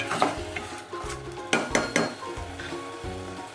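A ginger-garlic style paste frying in a pan for pudina rice, a soft sizzle with repeated spatula scrapes and clinks against the metal, several sharper knocks near the middle.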